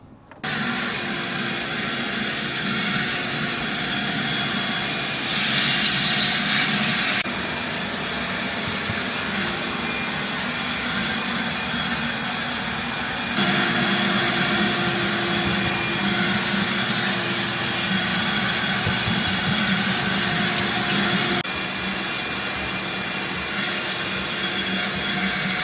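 A vacuum cleaner runs continuously while cleaning the interior of a brand-new BMW X5. It gives a steady loud roar with a broad hiss, and its pitch shifts briefly a few times as the nozzle moves.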